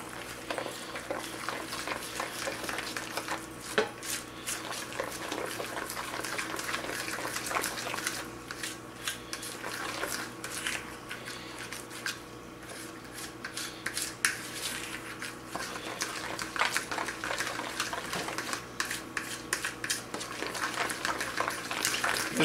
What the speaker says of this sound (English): Kind of do a fast stirring motion with the fork.